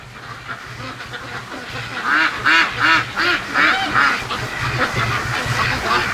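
Free-range ducks quack loudly near a creek in a rhythmic run of repeated calls that swells midway and then settles, heard over a steady low outdoor background hum.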